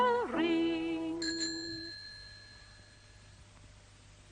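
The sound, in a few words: bicycle bell ringing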